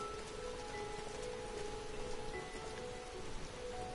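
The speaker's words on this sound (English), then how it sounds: "Ah, it's raining." Steady rainfall in Final Fantasy XIV Endwalker, a soft continuous patter on surfaces under a faint sustained ambient tone, unbroken throughout.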